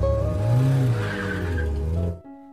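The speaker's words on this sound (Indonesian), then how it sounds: "Sinu memacu mobil dengan kecepatan tinggi" A car is driven at high speed in a film, its engine roaring loudly under squealing, skidding tires for about two seconds before cutting off abruptly.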